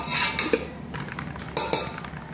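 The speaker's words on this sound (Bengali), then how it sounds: "ডেকচিটা নড়ছে" Cooking pot rattling and clanking as radish pickle is mixed inside it, with irregular metallic knocks and scrapes close by, a few sharper hits standing out and no talking.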